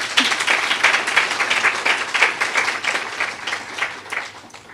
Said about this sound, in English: But a round of applause for Siv.